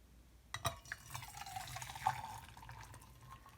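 Hot boiled water pours from a tea kettle into a cup, giving a light trickling, splashing fill with a few drips, quiet and close, with no talk over it.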